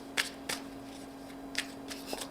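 Tarot cards are shuffled in soft, quiet riffles and slides, a few distinct swishes spaced over a low steady hum.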